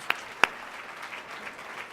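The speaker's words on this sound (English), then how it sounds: "Let's give all of our voters a round of applause." Soft audience applause at a diversity awards event, a low continuous patter with two sharper close claps near the start.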